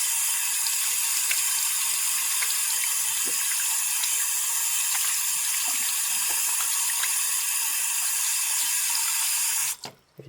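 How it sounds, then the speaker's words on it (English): A tap runs steadily into a sink during hand washing, a constant close hiss of water that cuts off near the end, followed by a couple of small clunks. "here's a look at my hands after washing them"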